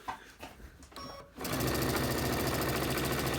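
A sewing machine runs fast and steady, stitching the last seam of a quilt block, its rapid even chatter close and loud after a few quiet handling sounds at the start.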